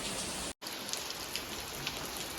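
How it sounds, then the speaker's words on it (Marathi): Heavy rain pouring steadily in a village, a dense hiss of drops drumming on surfaces, with one brief dropout early on. "पाऊस खूप जोरात चालू झाला."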